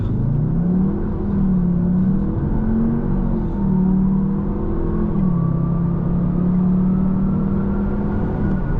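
The four-cylinder engine of a 2020 Audi TTS pulls hard under acceleration from inside the cabin, its steady drone rising in pitch through gear changes with a whirring undertone and no voices.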